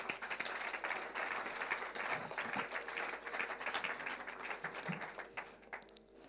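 A congregation applauding in a church, a dense, even wash of many hands clapping at a moderate distance that thins out toward the end.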